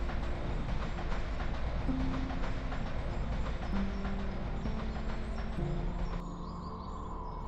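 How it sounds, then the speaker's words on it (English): A cog railway train in the Austrian Alps grinds and rumbles on its steep climb to the summit. The low mechanical drone is steady and fairly close, with a few brief squealing tones and a drop in level near the end. "Its cog railway, among the steepest in the world, transports tourists to the summit"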